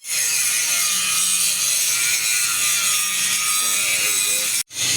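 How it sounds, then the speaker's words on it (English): A power grinder cuts back weld beads on a motorcycle fork bracket, grinding loudly and continuously up close before it stops abruptly near the end. "We got Anthony over here re-grinding out the welds that I did because I didn't like them."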